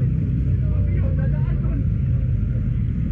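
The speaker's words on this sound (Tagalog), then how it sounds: "Nagmamaneho tayo ng tricycle." A tricycle engine drones in a low, steady rumble while being driven slowly in first gear, close and continuous throughout.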